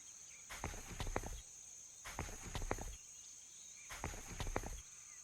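Horses' hooves clip-clop in a video game, coming in three short rhythmic bursts of steps over a steady high electronic tone, moderately loud with no talk.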